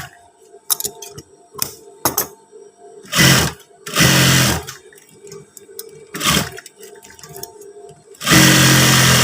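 Sewing machine stitching a stiff interfacing strip onto a trouser waistband, with short bursts of machine running that alternate with pauses and several longer, louder runs.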